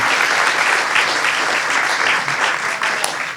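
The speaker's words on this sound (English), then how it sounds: "Can we give a round of applause to Randall Spackman and Thornbury Farm?" A crowd at an outdoor farm venue event gives loud, sustained applause, a thick, close wash of many hands clapping that eases slightly toward the end.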